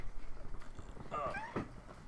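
A cat on a desk lets out a quiet meow against a low background hum in a room.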